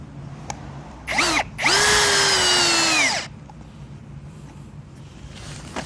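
A power drill drives a screw into a log used as a Christmas tree stand, with a brief first whir followed by a longer, loud, rising-and-steady motor whine that stops abruptly, nearby and alone.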